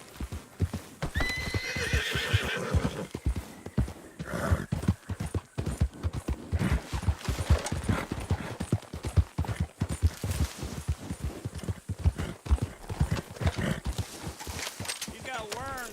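A horse in Red Dead Redemption 2 galloping with a rapid, continuous clatter of hooves, giving a loud whinny early on and more neighs later, while a voice talks over the ride.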